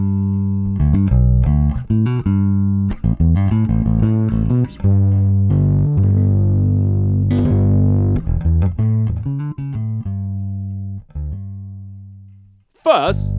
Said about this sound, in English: let's start off by using the Safe Distortion to make this bass warmer